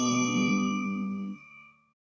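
A bell struck once rings out loud and bright, then its tone fades smoothly away over about two seconds with no talk.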